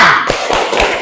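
A classroom of students doing a rhythmic tepuk semangat clap chant, sharp group claps landing in a quick, close, fairly loud pattern.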